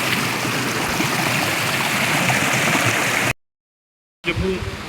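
A river rushes around a secluded mountain bathing spot as a steady, dense water roar that breaks off into brief silence, then returns with a faint voice.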